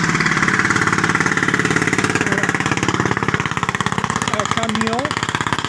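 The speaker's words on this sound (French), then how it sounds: "un camion qui est construit autour d'un moteur de tondeuse à gazon" A truck built around a lawnmower engine idles with a rapid, steady chugging putter, loud and close, while voices talk over it.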